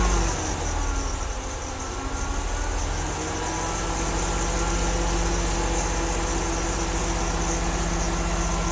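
A 2002 GMC Blue Bird Handybus with an 8.1-liter gas and propane engine and Allison automatic transmission idles in a steady, even rumble close by, with no talk.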